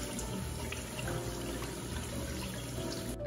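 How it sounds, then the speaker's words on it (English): Running tap water in a sink while washing the face, a steady soft hiss of flowing water, faint and continuous with no talking. "First, we're gonna wash our face."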